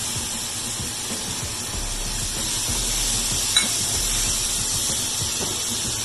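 Tomato puree frying with onions in a pan for an Andhra fish curry, a steady bright sizzle and hiss running throughout at close range, with soft low clatter underneath.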